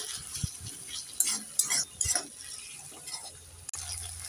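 Ginger-garlic paste and cumin-coriander paste stirred in a pan for an egg and cauliflower curry, with close, scraping, wet stirring strokes in short bursts and a few sharp knocks.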